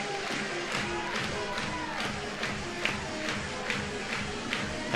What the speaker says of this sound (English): Crowd on its feet here at the Rhodes House